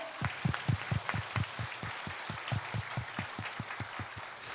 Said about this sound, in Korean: 우리 그 하나님께 영광의 박수를 드립니다.